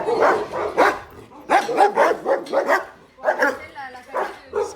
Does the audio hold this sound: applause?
no